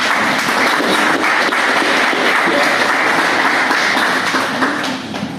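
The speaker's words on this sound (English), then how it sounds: "You all need to clap." An audience at a GLA business meeting claps continuously in a loud, sustained burst to welcome a speaker, thinning slightly at the very end.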